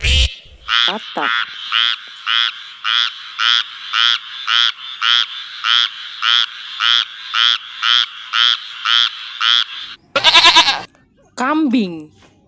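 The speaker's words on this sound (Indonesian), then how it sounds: "katak" A frog croaks in a steady train of about fifteen evenly spaced pulsing calls, loud and close, followed by a couple of harsher bleating bursts at the end.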